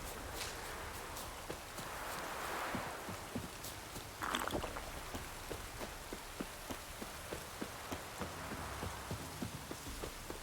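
Rain falls steadily in The Witcher 3, a soft continuous wash of drops with scattered sharper patters and occasional footstep-like knocks, heard alone without talk.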